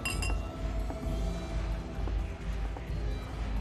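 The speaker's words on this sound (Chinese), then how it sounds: "庆祝一下， 干杯干杯！" Drinking glasses clink together in a celebratory toast at a social gathering, a couple of bright ringing taps at the start, then a lingering resonant tail over quiet room ambience.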